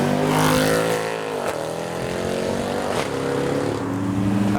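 A modified Mercedes C63 leaving a car show revs its engine loudly nearby, the throaty roar rising and falling in pitch over several seconds amid outdoor crowd noise.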